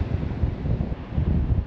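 Steady low wind in Wales rumbles against the microphone, close and fairly loud, with no voices.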